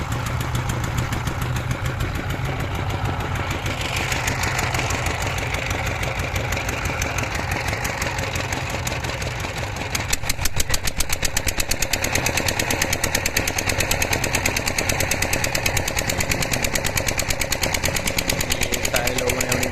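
Several motorcycles idle together after starting near a riverside boat crossing, a loud, continuous rapid chugging that grows denser and sharper partway through, with a voice speaking in the background.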